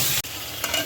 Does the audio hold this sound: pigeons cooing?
no